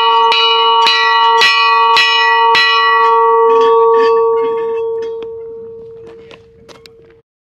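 A church bell on a deserted Greek island is struck about five times in quick succession, loud and close, its ringing tone hanging on and slowly fading away.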